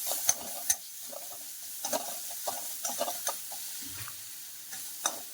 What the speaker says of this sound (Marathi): थोडंसं हिंग हे परतून घेऊया आपण